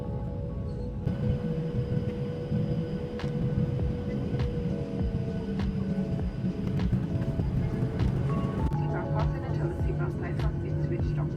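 Inside the cabin of a TUI Boeing 737-8 landing in Tunisia, a loud steady roar of engines and airflow fills the clip, rising slightly with rumbling and rattling near the end as the plane touches down.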